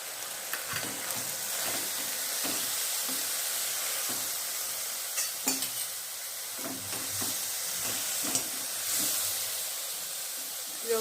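Finely chopped, washed dill greens sizzling in hot oil with moth bean dal, with a steady frying hiss and crackle and occasional stirring knocks throughout, and no talking.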